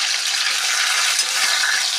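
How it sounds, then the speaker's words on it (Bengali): A continuous, even sizzle of pointed gourds frying in hot oil, close and fairly loud, with no talking. "এবার দেখো আমার পটলগুলো ভাজা হয়ে গেছে"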